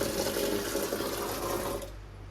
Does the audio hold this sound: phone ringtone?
no